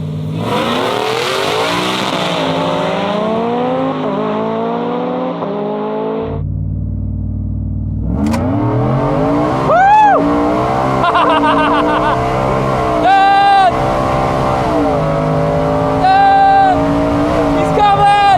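A work truck fitted with nitrous roars as it revs hard and accelerates on an airstrip while racing a McLaren. The engine is loud and close, with the pitch rising through the gears, and voices shout over the noise.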